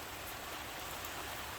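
Rain falls outside a home garage workshop in a steady, soft hiss of drops, faint and continuous across the short moment, with no voices.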